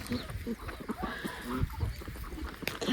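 Domestic ducks quack and honk while being herded on an evening walk, their calls scattered through nearby people talking.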